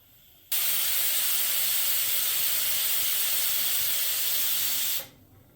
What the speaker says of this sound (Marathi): कुकरच्या चार शिट्ट्या करून घ्यायच्यात